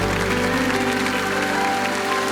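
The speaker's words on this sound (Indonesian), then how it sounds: "Terus kasih tepuk tangan buat Tuhan." A church congregation at a night worship service applauding together, a dense continuous clapping with music beneath.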